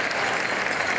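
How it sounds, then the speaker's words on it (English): Brief burst of dense applause from an indoor crowd at a mall powwow exhibition, steady and fairly loud for about a second. "How about a round of applause for song number 1?"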